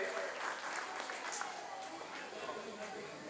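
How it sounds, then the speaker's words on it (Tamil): Audience applause at a Tamil community gathering, a steady wash of clapping that fills the clip, moderately loud with some voices mixed in. "கரகோஷம் நன்றி."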